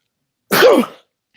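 A single short, burst-like sneeze close to the microphone, rising sharply and fading within about half a second, followed by silence.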